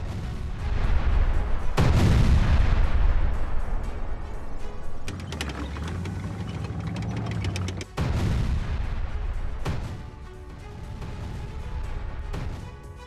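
A Ukrainian Abrams tank fires on Russian positions near Avdiivka, heavy booming blasts at intervals, each followed by rolling rumble and echo, loud and close with no voices.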